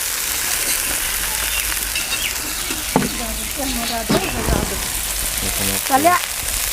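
Gourd greens with potato and dried shrimp fry in a pan, a steady close sizzle with occasional clinks and stirring scrapes, and a few faint voices in the background.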